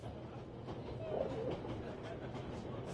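A train rolling on rails in the game 11-11: Memories Retold, a steady rumbling clatter of wheels with faint rhythmic clicks, carrying on under a brief thin tone.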